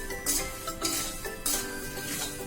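Peanuts being dry-roasted with salt in a pan, stirred steadily, giving repeated scraping and rattling bursts of the nuts and salt against the metal, close up and with no talking.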